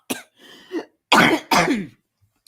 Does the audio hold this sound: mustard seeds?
no